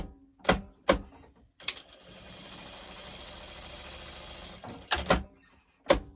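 A sewing machine stitches a quilt block in a steady mechanical whir lasting a few seconds, with sharp clicks and clunks from handling before and after it, close and moderately quiet.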